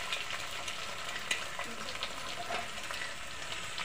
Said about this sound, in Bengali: যে 3টা ডিম একটা ভেঙে দেবো কড়াইতে